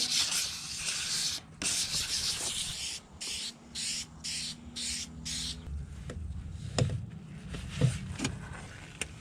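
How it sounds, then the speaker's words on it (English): Wet sanding a car fender by hand with 800 grit sandpaper makes repeated rasping strokes, close and moderately loud, in short bursts with brief pauses and a faint hum underneath. "I'm going to cut and wet sand this fender up with like an 800 grit"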